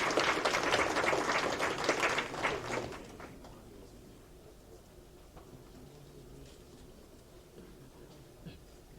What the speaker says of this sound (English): A round of applause for those students one more